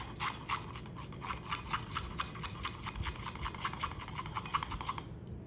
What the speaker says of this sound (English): you want to mix it till the powdered sugar is broken up